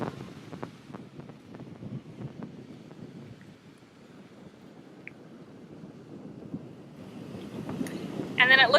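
Strong wind on a beach at Tulum buffets the microphone in a steady low roar, with surf beneath and the gusts growing louder toward the end.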